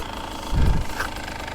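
A 2024 Beta 300 Race Edition two-stroke dirt bike engine idling, a low uneven burbling rumble with a short louder throaty burst near the middle.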